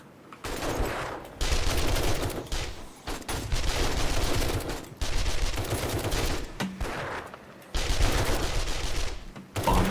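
Bursts of rapid SMG fire in the game 7 Days to Die come in four or five sustained volleys of several seconds each, separated by short pauses. The shots are loud and close, with almost no talk.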